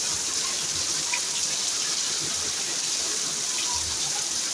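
Heavy rain pours down steadily in a dense, unbroken hiss, loud and even throughout with no voices.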